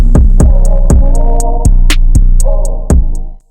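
An electric hair clipper buzzes steadily during a bald fade, working with a 1/16 guard and a lever adjusted from open to halfway. A close, continuous hum carries repeated sharp clicks and short pulses throughout, with no voices.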